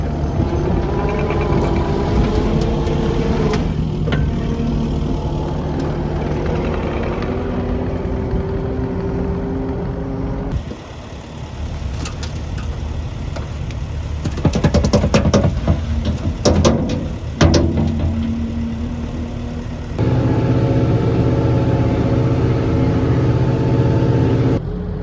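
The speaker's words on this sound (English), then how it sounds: "She loves running this skid steer" A skid steer loader runs on a hay field, its engine droning loudly with shifting pitch as it revs up and settles, with clanks and rattles in the middle stretch.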